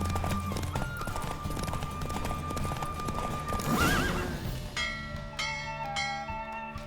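Roach the horse gallops in a race in The Witcher 3, rapid rhythmic hoofbeats under game music, with a sharp whinny midway followed by bright bell-like chimes.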